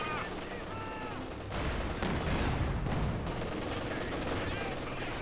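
Company of Heroes 2 battle between Ost and Soviet forces, with bursts of small-arms and machine-gun fire and heavier booms in the game's audio mix, moderately loud throughout.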